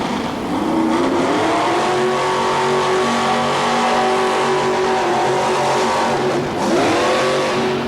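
A pulling tractor at a 1987 truck and tractor pull in Louisville, Kentucky, its engine roaring loud and sustained, dipping briefly near the end before surging back up.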